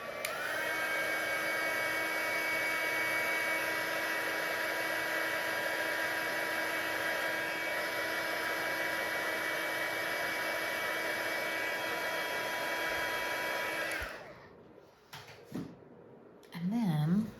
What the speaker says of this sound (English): I'm just gonna hit this with a heat gun really quick.